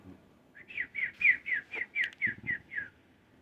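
A single bird sings a clear, close series of about ten rhythmic whistled chirps in an even repeating pattern over faint background noise on a quiet morning, with no talking.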